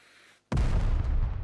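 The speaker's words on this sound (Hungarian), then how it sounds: "Ez a robbanás effekt, Dick" A single deep, heavy boom from a treasure-digging blast in the video game Out of Reach: Treasure Royale hits after a brief silence and rolls on as a loud, sustained rumble.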